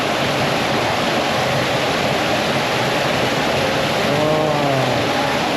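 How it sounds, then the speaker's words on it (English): Indoor waterfall at a Pittsburgh zoo, a steady, loud broadband rush of falling water that fills the clip without a break. "some waterfalls."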